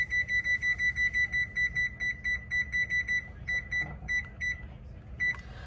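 An oven's control panel beeps in a rapid series of short, high electronic tones as bake, 350 degrees and start are set, first evenly spaced, then in scattered bursts, close and fairly loud.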